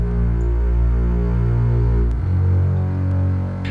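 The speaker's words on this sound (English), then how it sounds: "We also got this long string bass like this guy." A long, sustained string bass note from a pop production, a deep steady low drone holding under layered tones, then shifting pitch partway through with a quieter, thinner tail.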